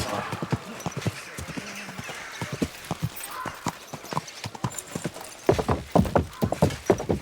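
Rhythmic hoof clip-clops from a horse in the video game Kingdom Come: Deliverance 2, steady at first then quicker and louder toward the end, with faint background sounds.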